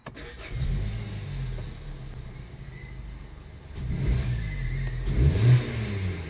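A 2011 Hyundai Sonata with a crankshaft position sensor fault code idles with a low, steady hum, then its engine starts again and revs up, rising and falling at close range.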